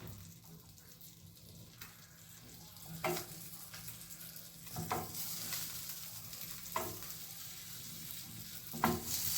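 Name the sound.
potatoes and vegetables frying in a pan for moussaka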